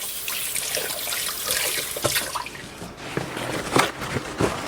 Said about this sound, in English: let me wash my hands and then I'll show you what we're going to do